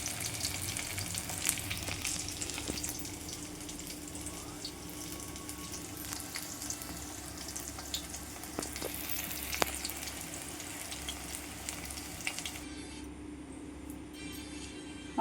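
Ash gourd fritters (bora) frying in hot oil in a home kitchen, a soft steady sizzle with faint clinks and a little water-like hiss, quiet throughout, and no speech.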